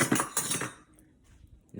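Metal spoon clinking against dishes as it is picked up while plating mashed potatoes and roasted asparagus, a couple of close, bright clinks in the first half, then a quiet room.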